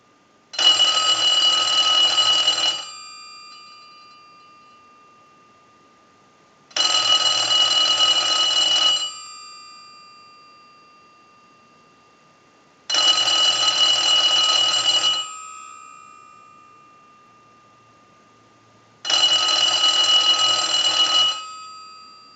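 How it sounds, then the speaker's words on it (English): A payphone rings under a test ring cycle sent from a line analyzer: four loud electronic ring bursts of about two seconds each, spaced roughly four seconds apart and fading between, with no talk. "use the analyzer and send a ring cycle like you were getting a call"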